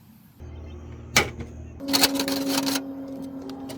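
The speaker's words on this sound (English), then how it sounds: "I cut the hole into the soffit." Cutting a hole into a wooden house soffit with a power tool: a sharp burst, then a louder stretch of harsh, buzzing cutting noise with a steady tone, close and alone.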